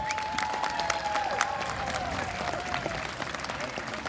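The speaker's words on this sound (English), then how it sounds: "let's give him a round of applause" An audience at a demolition derby applauds: dense, steady clapping from a crowd, with a whistle and some cheering mixed in, lasting throughout.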